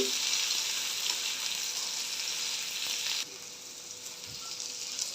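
Steady sizzling of bitter gourd frying in a pan, loud and continuous, dropping slightly in level partway through.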